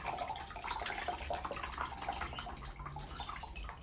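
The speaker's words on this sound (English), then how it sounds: "At the same time I'll water the moss poles." Water poured or sprayed over moss poles while watering houseplants indoors, a steady close splashing wash that runs evenly without break.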